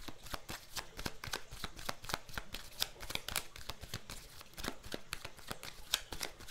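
Tarot cards being shuffled by hand, a rapid run of crisp riffling flicks and taps in a steady rhythm, close and quiet with no talking.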